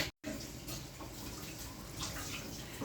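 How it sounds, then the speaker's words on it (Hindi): Water in a pan heating for fish curry, rolling toward a boil, gives a steady, close bubbling and hissing wash throughout with a brief dropout near the start. "पानी का उबाल चढ़ गया है।"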